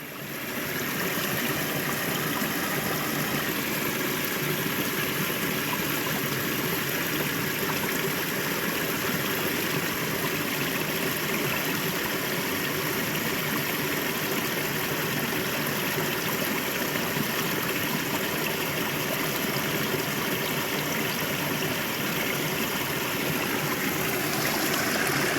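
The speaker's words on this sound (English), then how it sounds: "Found a sweet little waterfall." Steady, broadband rush of a river stream pouring over a small waterfall in Southern Utah, continuous and fairly close with no talk, while a Redcat Ascent 18 RC crawler drives through the water.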